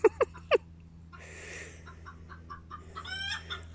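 A few backyard chickens cluck and squabble nearby, opening with sharp loud squawks, then softer, scattered clucks and murmuring calls rising again toward the end, with no talking.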